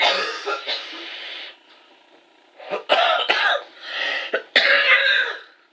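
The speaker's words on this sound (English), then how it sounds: "so I start coughing" Repeated coughing, several harsh bursts in quick succession with brief quiet gaps, fairly close and loud.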